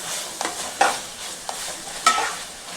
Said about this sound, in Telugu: ఇప్పుడు మనం ఉడకబెట్టుకున్న రొయ్యలు వేసేసుకుందామండి